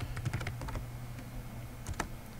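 Keys tap on a computer keyboard in quick, light bursts, a fast cluster at first, then scattered strokes and a final firm press, close and fairly quiet against a low hum.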